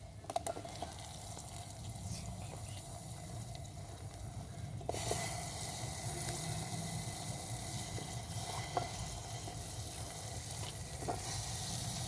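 Fresh cut brinjal hits hot oil in a pan, and the quiet sizzle jumps to a steady, brighter frying hiss that carries on with occasional small pops and clicks.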